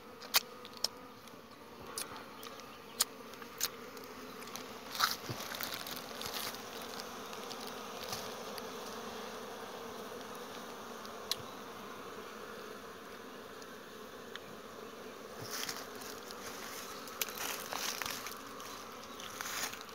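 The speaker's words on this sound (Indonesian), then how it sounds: "Ini rumah lebahnya, guys" Bees buzz steadily around a honeybee nest inside rock during a honey harvest, a continuous close droning hum with occasional louder passes near the listener and no talking.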